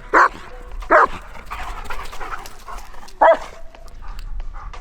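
Several loud German Shepherd barks ring out close by, three sharp bursts spaced unevenly with a softer whine or yip between them, and no talking.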